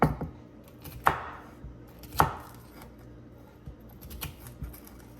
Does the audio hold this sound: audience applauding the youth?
no